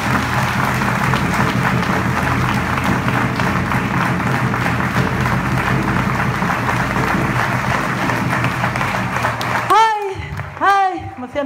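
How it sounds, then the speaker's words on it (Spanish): Loud, sustained crowd applause at a festival proclamation, a continuous roar of clapping from a large gathering, with a speaker's voice breaking in near the end. "y un aplauso para ellos"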